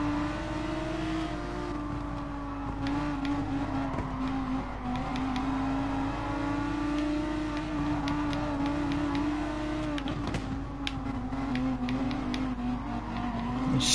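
Porsche race car engine in Gran Turismo Sport, a loud sustained drone holding high revs with slight rises and dips in pitch as the car runs on track, heard alone.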